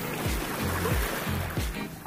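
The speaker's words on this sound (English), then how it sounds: "Coast Guard boat is moving. It's leaving out of" A Coast Guard boat engine drones steadily on the water, with low rumbling and the wash of water throughout.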